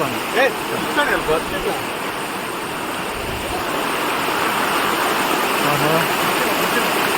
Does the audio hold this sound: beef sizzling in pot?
no